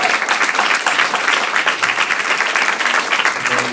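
Loud, steady applause from an audience at a hip hop event at Stanford, a dense wash of clapping that continues without a break for several seconds.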